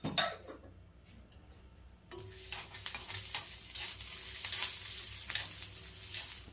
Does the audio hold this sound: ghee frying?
yes